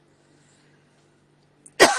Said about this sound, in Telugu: సారీ, కొంచెం దగ్గు వస్తుంది.